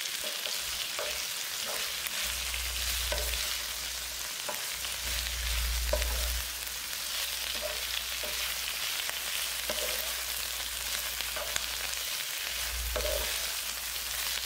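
Coriander gravy sautés and sizzles in a pan while being stirred, a steady close frying hiss broken by scraping spoon strokes and low thumps, with no talking.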